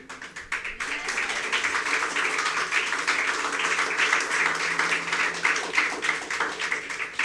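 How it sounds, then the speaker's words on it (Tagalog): A church congregation clapping together in a steady, rapid rhythm, the dense patter of many hands continuing evenly throughout at a moderate distance. "dapat ibigay niyo yung the best na palakpak sa Panginoon"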